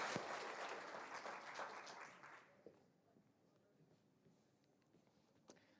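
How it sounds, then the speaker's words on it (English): Elementary school awards audience applauding students, a dense round of clapping that carries for about two seconds and then tapers off, leaving a quiet room with a few scattered claps. "Let's give them another round of applause"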